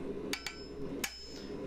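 Hammer blows on steel while a broom handle is forged, a wall-hook end being flattened: four sharp, ringing metallic strikes at irregular spacing, close and distinct over a low steady hum.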